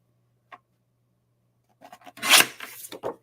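Card being cut to size for a craft project, a faint isolated snip, then a quiet run of short scraping cuts building to one louder rasping stroke and a few small follow-up sounds.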